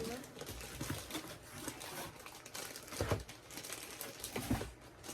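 Thin plastic bags wrapped around Funko Pop boxes crinkle and rustle in soft, irregular bursts, with a couple of sharper crackles, heard quietly beneath a person talking.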